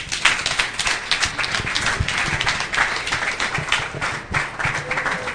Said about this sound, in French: On peut continuer avec les applaudissements, s'il vous plaît.